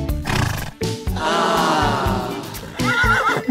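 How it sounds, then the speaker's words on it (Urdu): A foal neighs on a farm, a loud, close whinny with a rising and falling pitch, broken into a few bursts and ending in a higher, wavering call. "دیکھو گھوڑے کا بچہ ہے"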